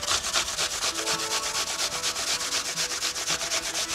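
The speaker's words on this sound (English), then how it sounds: "Grate 2 apples." Two apples being grated in a kitchen, a fast, steady rhythmic rasping of fruit scraped back and forth over a grater, loud and close with no voices.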